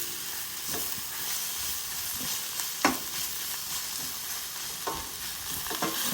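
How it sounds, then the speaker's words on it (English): Dandelion, kale, Swiss chard and spinach stir-fry together in a pan, a constant soft sizzle broken by scattered scraping stirs and one sharper clatter of the utensil. "Okay, and we stir fry everything together."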